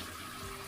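Water from cooked mussels (tahong) is poured off through a strainer, making a steady, continuous splashing rush at moderate volume with no talking.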